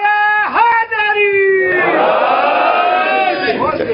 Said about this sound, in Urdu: نعرہ حیدری.